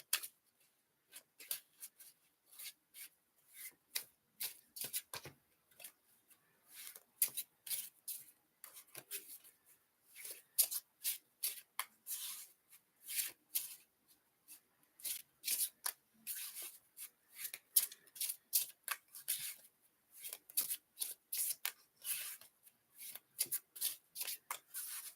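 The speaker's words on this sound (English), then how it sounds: "I'm just reshuffling the cards to get Sarah's energy here" Tarot cards being shuffled by hand in repeated quick riffling bursts, close and crisp, with short pauses between passes and no talking.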